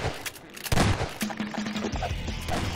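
Gunfire in the Garry's Mod video game, a burst of sharp, overlapping shots and cracks over busy game noise, fairly loud and close, with brief voice sounds mixed in.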